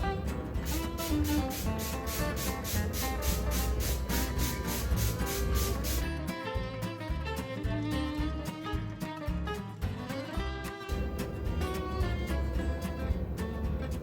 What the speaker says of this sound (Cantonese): 咁然之後咧我就會攞支水噴下呢一邊咧嗰個 mascara 咧係咪真係唔會甩出嚟啦